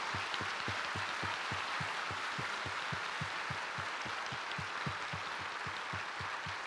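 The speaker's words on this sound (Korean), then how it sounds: "총회장님들 한번 다 같이 기립하셔서 크게 환영하고 박수해 주시면 감사하겠습니다" Standing attendees at the 103rd church general assembly clap together in a steady unison rhythm, roughly three even beats per second, heard faintly from a distance.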